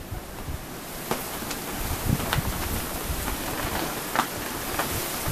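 Steady outdoor wind noise with occasional stronger gusts buffeting the microphone, a constant rushing bed with brief louder swells.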